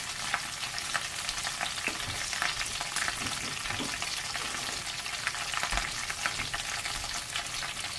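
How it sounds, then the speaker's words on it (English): Seasoned food frying in a pan, a continuous close sizzle with soft scraping and stirring strokes scattered through it, fairly quiet and with no speech. "And I'm going to stir these up."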